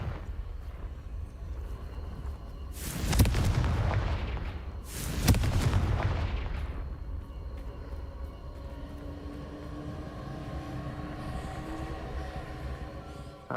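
Two loud, booming fire-spell blasts from the Hogwarts Legacy video game, a few seconds apart, each with a sharp crack and a long rumbling decay, followed by quieter game ambience.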